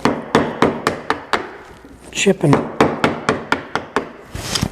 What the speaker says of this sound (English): working with a chisel kind of relaxing